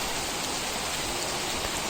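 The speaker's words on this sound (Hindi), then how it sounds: "बहुत तेज़, बहुत एकदम तेज़ हो गई है बारिश।" Heavy rain pours down steadily outdoors, a dense unbroken hiss of drops hitting the ground and surfaces, loud and constant throughout.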